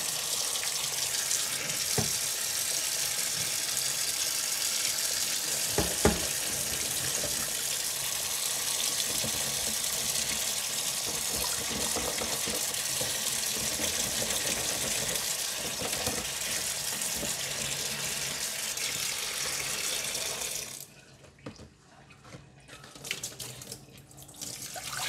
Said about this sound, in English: I am putting all the 3 crabs in the basin and will give them a last rinse